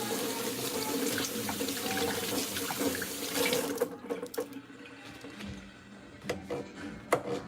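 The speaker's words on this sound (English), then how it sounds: "And then I rinse off just a couple of mushrooms." Tap water gushes into a kitchen sink as a few mushrooms are rinsed, a steady splashing stream for about four seconds, then the flow stops and softer drips and handling clatter follow nearby.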